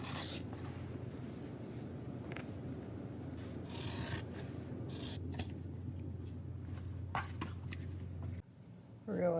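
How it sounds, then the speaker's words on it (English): Scissors snip straight across thrifted pants fabric in repeated short, close crisp cuts over a low steady background hum, with no speech. "Pants are a lot easier because I'm just cutting straight across"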